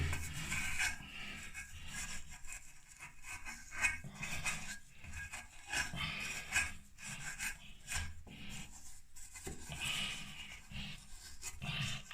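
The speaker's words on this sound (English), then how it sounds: "give it a scrape of the old iron wall again" Old paint is scraped off an iron wall in a bathroom, a series of rough, rasping strokes repeating irregularly at close range, fairly quiet overall.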